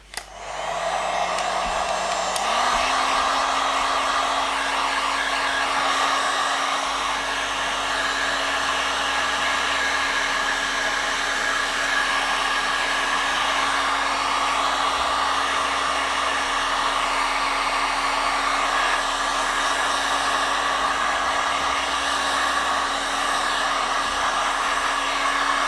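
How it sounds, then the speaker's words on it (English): A hair-dryer-style heating tool blows steadily while warming the surface of a Tesla Model 3 rear light before a tint film goes on, a loud continuous whine and rush that jumps slightly in pitch early and then holds constant. "Start heating the surface first."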